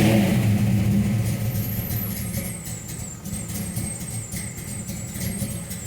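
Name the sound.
1968 Mercury Cougar engine lopey idle with cam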